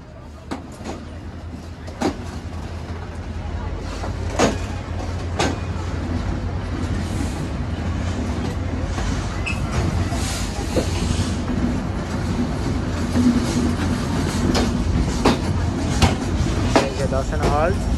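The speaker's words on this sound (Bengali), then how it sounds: "ঠিক 3 মিনিট পরেই দর্শনা হল থেকে ছেড়ে দিল আমাদের ট্রেন।" The Sundarban Express pulling out of Darshana Halt in Bangladesh, heard from on board: a steady rumbling roll with regular wheel clacks and occasional sharp knocks, while people talk over it.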